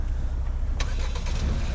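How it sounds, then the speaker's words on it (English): Remote start of a locked, empty 2020 Hyundai Sonata at a dealership: a brief crank burst, then the engine catching and settling into a steady idle under a constant low rumble. "Car's starting."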